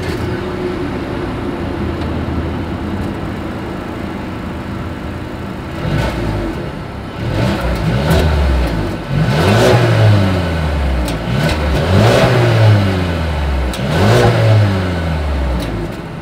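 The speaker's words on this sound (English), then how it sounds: "As always, here is that exhaust clip." A 2020 Mercedes-Benz A220 idles steadily through its chrome-tipped exhaust, then the engine is revved several times in repeated rising and falling bursts, loud and close.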